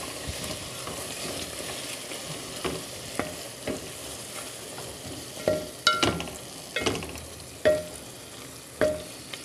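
Chicken frying in a pan for kinamatisang manok, sizzling steadily while a utensil stirs and scrapes in irregular knocks that grow busier toward the end.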